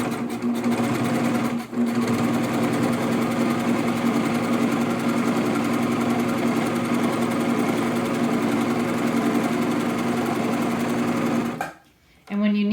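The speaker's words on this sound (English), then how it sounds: "leave a nice tail at the end of your serger to start out with" Serger overlock sewing machine stitching fabric for beeswax wraps, a loud steady mechanical hum running nearly continuously with one brief pause near the start and a stop at the very end.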